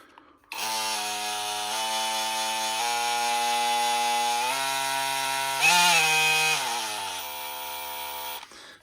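A DeWalt 20V Max brushless oscillating tool runs continuously for about eight seconds with a buzzing, harmonic motor whine, close and steady, dipping and rising briefly in pitch as the trigger is eased before it stops.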